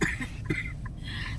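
A person with a lingering cough lets out a couple of harsh, close coughs in quick succession, with breathy rasping between them.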